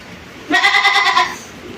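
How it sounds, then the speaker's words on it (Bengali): A single goat bleats loudly and close by for about a second, a quavering, harmonic cry on a small livestock farm in Ishwardi, Pabna, where Totapuri and large Indian goats are kept; the surroundings are otherwise quiet. "তো চলেন আপনার ছাগলগুলো একটু দর্শকদের দেখাই"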